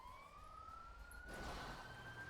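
A police siren in the video game Grand Theft Auto V wails steadily in the distance, its tone slowly rising, then swells louder and closer over a low rumble.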